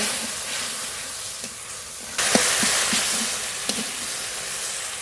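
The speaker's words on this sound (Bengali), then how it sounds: "জল দিয়ে মশলা খুব ভালো করে কষিয়ে নেব" Spice paste with salt, turmeric and a splash of water frying in a pan for egg curry, a steady close sizzle and hiss with occasional sharper spits.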